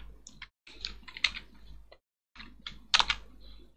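Short bursts of typing on a computer keyboard, the key clicks coming in quick irregular runs separated by brief pauses, quiet and close with no speech.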